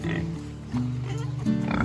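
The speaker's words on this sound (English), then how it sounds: "I am walking up to the pigs right now to show you guys the pigs." Pigs on a farm oink and grunt close by in a run of rhythmic, varying snorts and squeals.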